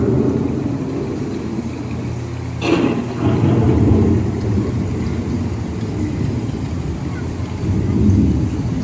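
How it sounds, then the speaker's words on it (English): Thunderstorm effect on the EPCOT Living with the Land boat ride: a sharp thunderclap lands near the three-second mark, then rolls into a long low rumble over a constant wash of rain-like noise, with a second swell near the end. "The approaching storm may seem violent and destructive to us"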